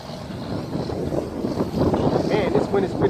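Strong wind buffets the microphone while a Hubsan H501S drone flies outdoors, its motor whine faint and mostly buried under steady, loud rumbling gusts.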